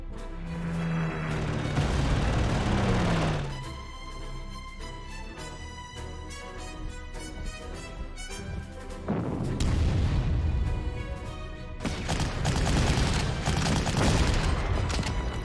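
Artillery fire in the WWII strategy game Panzer Corps, during a Crete airborne campaign battle: dense booming volleys and rumbling blasts with sharp crack-like shots, loud and continuous, swelling again in heavy bursts toward the end.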